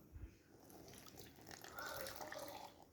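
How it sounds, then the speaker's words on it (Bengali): Water poured from a bowl or cup into rice flour for a pancake batter, a steady soft trickle and splash, quiet and continuous. "একটু আমি জল দিয়ে দিব।"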